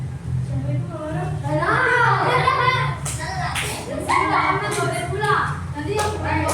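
Children in a primary-school classroom chant and clap along in a counting clap game, sharp claps landing in rhythmic groups between the young voices.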